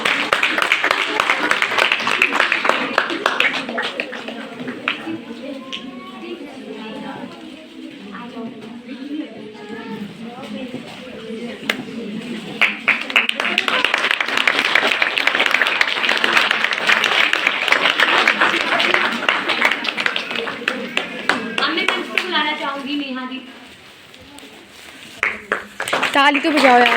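Audience clapping at an alumni meet, scattered and uneven hands ringing out through a noisy hall while voices chatter over it, dipping briefly near the end before picking up again.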